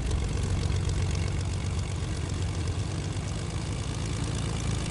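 Airplane engine in the Fortnite video game, a steady low droning propeller hum that holds at an even, fairly loud level throughout with no voices.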